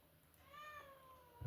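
A house cat gives one drawn-out meow that rises and then falls, fairly faint and heard alone in a quiet indoor room.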